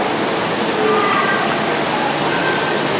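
A small waterfall at a reptile garden rushes in a constant, dense wash of splashing water, steady and fairly loud with no pauses.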